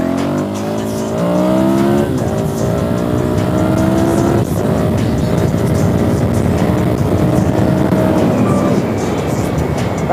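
A dirt bike engine revs hard and climbs through the gears, a loud, continuous close roar whose pitch rises and drops with each shift across the whole stretch.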